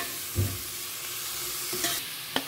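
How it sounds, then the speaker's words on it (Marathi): Onion and carrot fry together in a pan with a constant hissing sizzle, broken by a few short stirring scrapes and knocks, and no voices. "कांद्या वांगडा न्ही हेका बरें 1 मिनटांनी अशें फ्राय करून घेयात"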